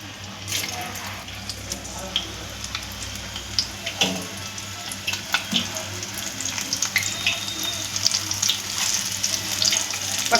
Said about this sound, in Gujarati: ચાલો મિત્રો, હવે આપણે પટ્ટે તળી નાખીએ મરચાંની.